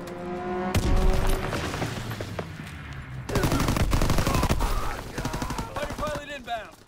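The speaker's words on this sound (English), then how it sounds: "Fighter pilot inbound! Strafing the target!" Fighter plane strafing with gunfire: a long ripping burst of rapid shots, loud and close, breaking off and then resuming in a second dense volley with booms layered underneath.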